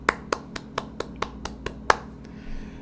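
Roughly nine sharp hand claps land in a fairly even rhythm, close and distinct, followed by a faint trailing noise, with no talking over them.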